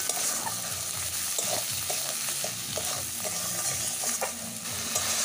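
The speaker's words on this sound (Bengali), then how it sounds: "আরেকটু কষিয়ে নেব।" Fish curry with fried potatoes sautéing in a pan, a continuous close sizzle with repeated scraping stirs of a spatula throughout.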